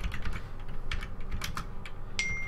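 Someone types on a computer keyboard running Windows 7, a quick irregular run of light clicking keystrokes heard close up with no talking.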